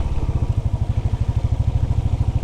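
A Royal Enfield Bullet motorcycle riding through snowfall in Kashmir, its single-cylinder engine thumping loud and close in a steady, even rhythm of rapid beats throughout.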